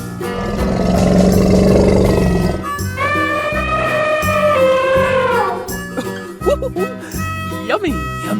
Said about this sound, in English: Elephant.